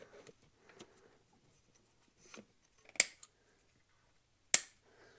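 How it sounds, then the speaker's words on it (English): A zip tie is ratcheted and snipped while fastening a fuel filter to a homemade bracket on a big block dentside Ford, with faint clicks followed by two sharp, loud snaps in a quiet garage. "I'm just going to re-zip tie my fuel filter to this bracket that I made for it"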